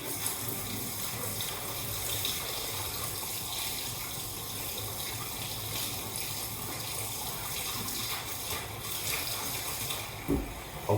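Hot water poured steadily into a Pinter brewing vessel while starting a batch of cider, a continuous close rushing stream with a brief clunk near the end.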